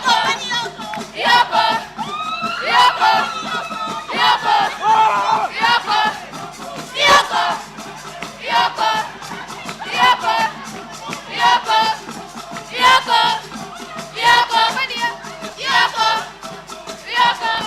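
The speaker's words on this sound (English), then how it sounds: "Please, let's give them a big round of applause." A convocation ceremony crowd cheers and shouts in rhythmic bursts, loud whoops and yells rising and falling over a few claps, with voices chanting together rather than steady applause.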